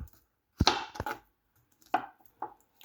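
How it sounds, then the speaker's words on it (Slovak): A knife cuts through a banana on a cutting board for a milkshake, giving a few separate soft chops, two close together and then two more after a pause, near and alone with no talk. "Dobre, teraz si ho nakrájame."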